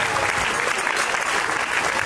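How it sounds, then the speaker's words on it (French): Wedding guests at a French civil ceremony marking twenty years together clap loudly, a dense, steady burst of applause filling the room throughout. "Oui, ça s'applaudit très fort, s'il vous plaît."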